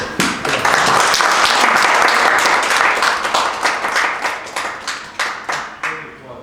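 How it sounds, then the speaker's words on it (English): A crowd at a talk on leading volunteer organisations breaks into loud, dense applause that holds steady, then thins into separate slowing claps as it fades out. "Let's have a round of applause for"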